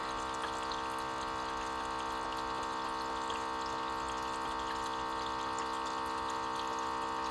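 A LetPot LPH Max 4-in-1 hydroponics system pumps water at startup with a steady, even hum. A soft trickle of flowing water runs through it, constant and fairly quiet, with no voices.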